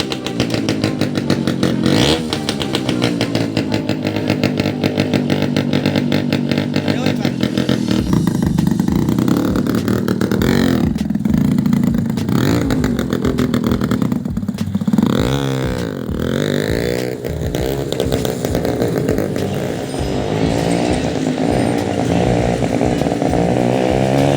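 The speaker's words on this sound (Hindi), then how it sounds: "अभी गाड़ी स्टार्ट करते हैं" A loud motorcycle fitted with an aftermarket short silencer idles and revs repeatedly, its raspy exhaust rising and falling close by for a long stretch.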